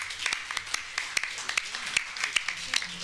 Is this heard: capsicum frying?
no